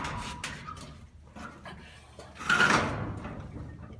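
Large doors are pushed shut and latched with a rebar bar, giving a few scattered knocks and scrapes followed by a louder clattering thud of metal near the end, close by and without talk.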